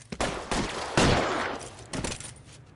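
Gunshots in LA Noire ring out as several sharp, loud cracks spaced irregularly, with a heavy volley near the middle followed by a reverberant tail and another shot toward the end, no talking.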